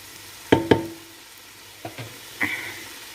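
Tomatoes are sautéed in a pan in a Filipino home kitchen, heard as a few sharp utensil clacks and scrapes against the pan over a faint background sizzle.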